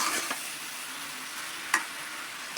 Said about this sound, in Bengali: ফুলকপির অনেক সুন্দর করে কষাবো